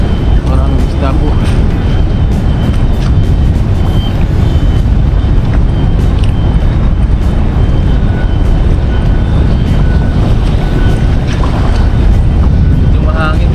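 Strong wind roars and buffets the microphone on a small fishing boat at sea, a constant low rumble that lasts the whole stretch, with brief voice-like tones at the start and end.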